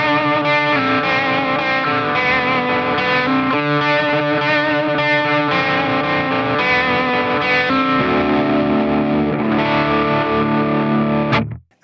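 Distorted electric guitar chords run through a Mooer GE150 Pro processor with optical tremolo, loud and sustained with pulsing modulation for about eleven seconds, ending abruptly.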